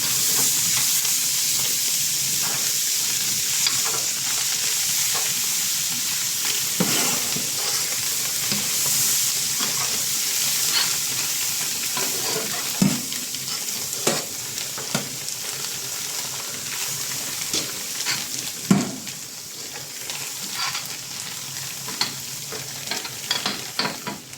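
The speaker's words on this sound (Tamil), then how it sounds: "கொத்தமல்லி புதினா சேர்த்து மூணு நிமிஷம் நல்லா வதக்கினா நல்லா ஃப்ளேவர் சூப்பராக இருக்குது" Coriander and mint leaves sautéing in a pan for Chennai-style vegetable biryani, a loud steady sizzle with intermittent scraping and knocking from stirring that grows busier toward the end, close up with no voices.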